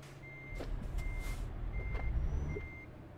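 Truck reversing beeps in Euro Truck Simulator 2: a steady, evenly spaced series of four high electronic beeps over the low rumble of the idling lorry engine, with no talking.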